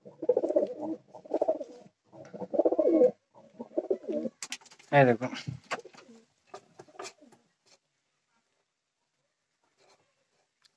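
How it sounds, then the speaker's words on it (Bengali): Pigeons coo in a rhythmic series of soft, close, throaty calls, then someone speaks briefly before the sound fades to near silence. "দেখুন একদম ক্লিয়ার পায়রা আমার"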